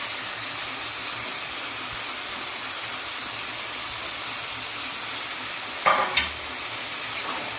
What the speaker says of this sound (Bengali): তো চিংড়ি মাছটা তার মশলার সাথে ভালো করে কষিয়ে নিয়েছি আর এইবার দেবো আমি থোর আর আলুটা